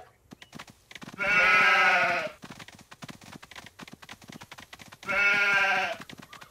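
Two loud, drawn-out sheep bleats from a Paw Patrol Academy video game, each about a second long and several seconds apart, standing out over soft game music and effects.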